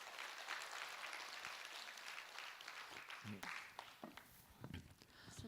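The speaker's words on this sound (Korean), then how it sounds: "박수." A studio audience at a Buddhist monk's live question-and-answer dharma talk claps quietly, with scattered sharp claps and shuffling rising through a faint, continuous crowd murmur.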